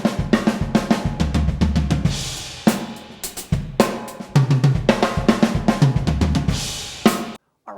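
A drum kit plays a one-bar fill of repeated block hits, a rapid string of loud, punchy strikes with bright cymbal wash, rolling steadily before stopping abruptly near the end.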